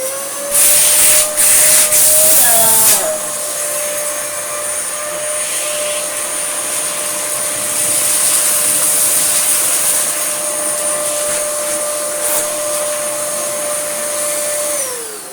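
A Dyson DC07 upright vacuum cleaner runs loud and close with strong suction, a steady whining hiss and airflow roar that lasts throughout, with a harsher rushing burst near the start before it settles into an even drone.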